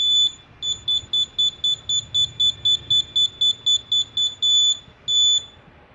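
A homemade Arduino distance-sensor stick used as an exercise tool emits a rapid train of sharp, high electronic beeps, about a dozen evenly spaced pulses that slow to a few longer tones near the end.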